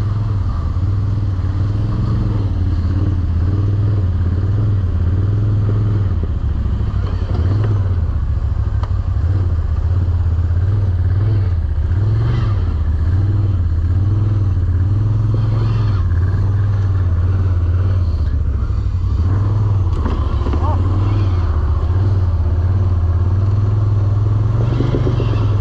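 An ATV engine drives off-road at steady throttle, a loud, continuous low drone with slight wavering in pitch and some clatter from the terrain, with no voices over it.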